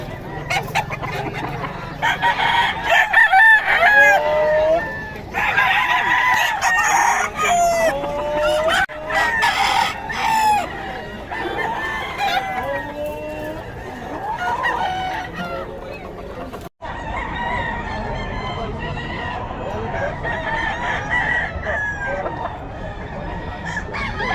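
Chickens and roosters in Bocaue crow repeatedly and loudly up close, with clucking between the calls and several birds overlapping throughout.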